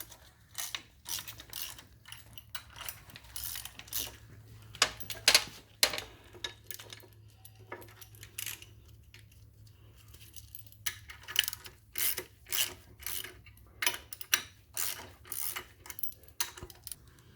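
Mitchell OD changeout tool being turned to draw a race out of its housing, giving a series of irregular metallic clicks, ratchet-like ticks and clanks, close and fairly quiet, with no talking.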